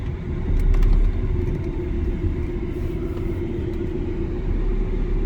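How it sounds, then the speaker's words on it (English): A 2011 Volkswagen Passat 2.0 TDI Highline diesel with DSG automatic pulling away on the road, a steady low engine and road rumble heard from inside the cabin, with no talking. "Alright, we will go for a spin now."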